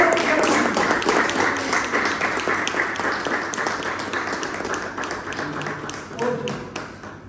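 Applause from an audience at a Toastmasters club milestone meeting, steady dense clapping lasting throughout, loud and close, with a faint murmur of voices underneath.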